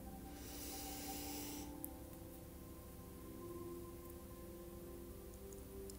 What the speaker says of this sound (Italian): Prendi un profondo respiro